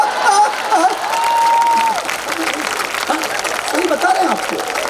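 An audience at a Hindi kavi sammelan poetry event in Bangalore claps, a loud wash of applause filling the hall while a voice and a faint tone carry over it.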